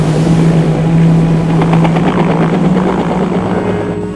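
Loud, continuous rotor and engine roar of a rescue helicopter hovering close by during a swift-water rescue, with a steady droning hum and no speech.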